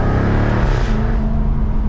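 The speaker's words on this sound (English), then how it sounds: "you hear some cracks from the exhaust." Supercharged 2023 Jaguar F-Type R driving with manual gear shifts, a loud, close engine roar that steps down in pitch partway through as a gear changes, with rough crackling from the exhaust.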